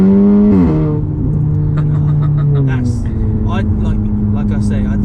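Audi S3 8V saloon engine and exhaust droning loud and close, with a deep steady tone that dips slightly partway through, joined by faint clicks and a little background chatter.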